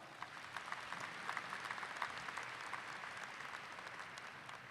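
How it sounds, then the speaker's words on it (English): Audience applause fills a university commencement hall, a steady dense wash of many hands clapping at moderate loudness for the full stretch, with no voices over it. "Would you please give them a round of applause?"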